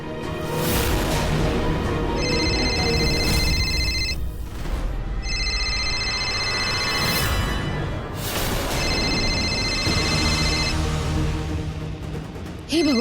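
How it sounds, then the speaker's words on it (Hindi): A telephone rings in repeated bursts of a bright electronic ringtone, three rings with short gaps, loud and close over a dense background of music and room sound in a Hindi television drama scene. "ये फोन किसका है?"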